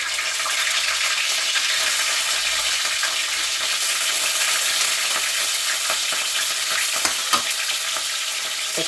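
Moong dal and chana dal fry in hot oil for upma, a loud steady sizzle with faint stirring scrapes throughout, no voices.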